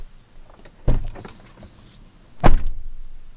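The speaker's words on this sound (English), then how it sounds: "as soon as you close the door" A 2016 GMC Canyon SLT pickup door shuts with a solid thunk, following an earlier softer knock and faint rattles inside the cab, then a brief resonant tail.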